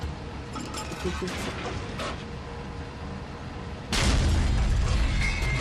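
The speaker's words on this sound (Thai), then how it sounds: "อ้าวระเบิดฮะ" A loud explosion bursts out in the IL-2 Tank Crew tank game, played from a Tiger Ausf. H1 against a G70, a broad blast and rumble that swells and holds near the end after several seconds of quieter engine and battle noise.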